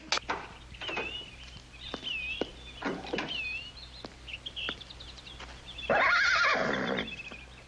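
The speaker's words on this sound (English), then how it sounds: "Looks like a fine horse." In a classic Western film, a horse whinnies several times with shrill, wavering calls amid scattered hoof clops and shuffles, then a louder burst of noise near the end, with no speech.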